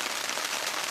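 Heavy rain pours during a stormy solo camping trip at a Japanese park, a dense, even hiss of falling water heard alone for a brief moment.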